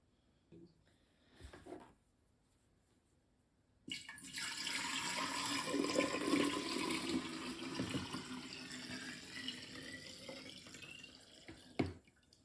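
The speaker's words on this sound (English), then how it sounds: "Now we'll pour it into our wide mouth jar and let it turn into vinegar." Passionfruit vinegar liquid, about 2.4 litres, poured into a wide-mouth jar: a steady, close splashing pour lasting around eight seconds, preceded by brief handling knocks and ending with a sharp clink.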